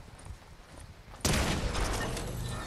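Gunshots in Fortnite, a sudden loud burst of fire midway that carries on as a rough, sustained crackle of shots after quieter game ambience.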